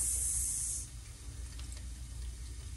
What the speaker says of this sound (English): The apple is cooking, so it makes the noise.